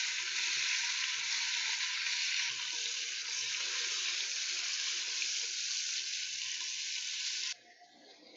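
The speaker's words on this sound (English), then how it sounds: "And now we are just cooking in the fat." Bacon fries in its own fat in a pot with a bright, steady sizzle, close and fairly loud, dipping briefly midway and dropping sharply near the end, with no voices.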